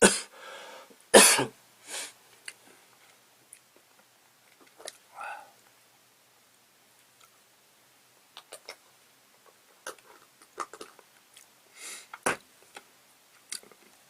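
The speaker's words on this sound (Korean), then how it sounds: "아유 기침 나니까요. 말을 못하겠네요" A person coughs several times with sniffs and throat clearing, close and sporadic, with bursts separated by quiet gaps.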